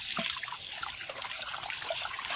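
Paint brush dipped and pressed in water while painting clay pots, giving a close, light trickle and dribble of liquid with small splashy drips throughout, no talking.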